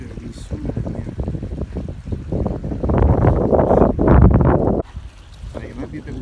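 Gusty wind blowing outdoors beside a muddy stream, buffeting the microphone in loud rushing surges that peak then drop off abruptly.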